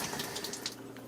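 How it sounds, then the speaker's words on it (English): A tap runs steadily as a diamond sharpening stone is rinsed, a close, even hiss of flowing water with faint splashing and no voices. "you can rinse it off with a little bit of water."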